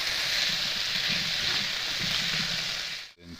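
Potatoes and diced celery fry in a pan, a steady loud sizzle with soft bubbling underneath that briefly drops out near the end.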